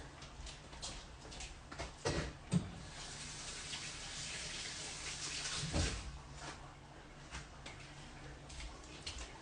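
Hands rinsed under a running kitchen tap, a faint, steady water hiss near the sink with a few soft splashes and clicks, no talk.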